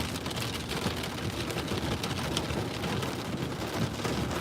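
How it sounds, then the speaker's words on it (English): Rain falls steadily during a storm chase in Alberta, a dense, even hiss of heavy drops with no pauses, loud and close, with no voices over it. "currently it's more just rain"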